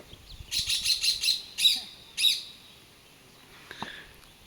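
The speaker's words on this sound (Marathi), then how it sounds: "अकडे पोपट बोलतो रे तुझा" Sharp, high-pitched parrot calls come in a quick run of five, then two more spaced apart, fairly close, during a Shimga Holi festival in Konkan, followed by near silence.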